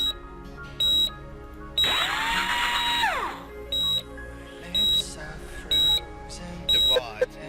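Household screwdriver whirring in a surgery video game, a long harsh whir in the middle between regular short high beeps, with a voice talking over the game sounds.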